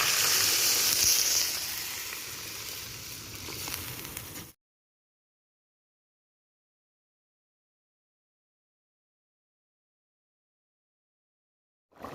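Fish and potatoes sizzle and hiss in a pan for a few seconds, close and steady, then cut off into silence before a brief burst returns at the end.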